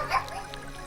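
A dog barks once, a short yip-like bark near the start in a retro strategy game, the Fire Emblem 4 Chapter 4 scene, followed by quieter background sound.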